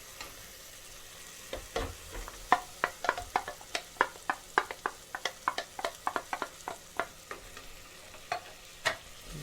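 Tomatoes stir-fried in a pan for a spicy Vallarai Keerai Kootu, a steady run of sharp scraping and clattering strokes from a spoon against the pan over a quiet sizzle, close and fairly loud, with no voices.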